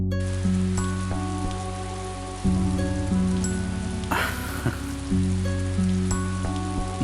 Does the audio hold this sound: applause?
no